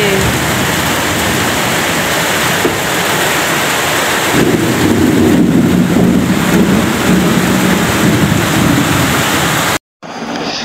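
Very heavy rain drums loudly and without a break on a tin roof. A deeper rumbling swell like thunder rises in the middle, and the roar cuts out briefly just before the end.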